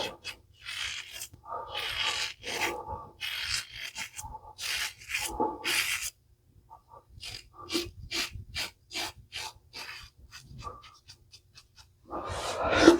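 A Blackland Vector razor mowing through thick, tough, coarse whiskers, close-up rasping scrape strokes in bursts, some quick and rhythmic, with short pauses between passes.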